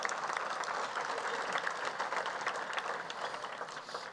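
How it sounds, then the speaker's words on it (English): A large audience at a 2018 food and agriculture conference gives steady, sustained applause throughout, dense and even, tapering slightly at the very end. "Linda, thank you, and the Soy Foods Council, let's give them a round of applause for this."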